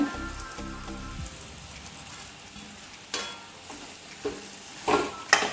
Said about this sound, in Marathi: आता ह्यामध्ये आपण परतून ठेवलेली भेंडी आहे ती सगळी मिक्स करूया।